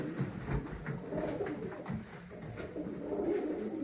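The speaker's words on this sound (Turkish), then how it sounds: "Hasan Filiz kardeşimizin gönderdiği bizim Baltacı Paşalardan bir erkek" A male Baltacı Paşa pigeon of grey smoky colouring coos in low, throaty, rolling murmurs, close by and continuous for a few seconds, with no talking.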